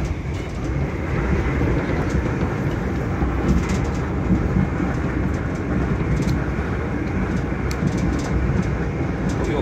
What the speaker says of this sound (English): This train's going well fast